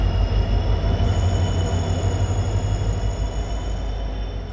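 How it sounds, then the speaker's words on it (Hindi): Inside a general class coach of an Indian train bound for Jaisalmer, a loud, steady rumble of wheels on rails with a faint high squeal running through, heard from within the moving carriage. "पर सालों बाद ट्रेन के जनरल डिब्बे में सफ़र किया"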